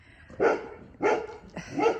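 A dog indoors at a newly moved-into house barks at another dog walking past, giving three loud, close barks spaced about half a second apart, with no talking.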